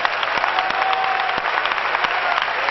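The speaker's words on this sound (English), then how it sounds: "Oh, clap your hands and praise him." Church congregation claps hands in praise during a 1992 worship service; even, continuous clapping with a few sharper individual claps, somewhat muffled and band-limited, with no talk over it.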